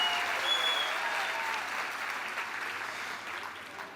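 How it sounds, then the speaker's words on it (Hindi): A crowd at an AWPL gathering applauds to welcome first-time attendees, dense, sustained clapping from many hands that holds steady and fades slightly toward the end. "हमारे AWPL के फाइटर जो पहली बार आए उनके लिए एक बार जोरदार ताली बजाकर उनको स्वागत करो।"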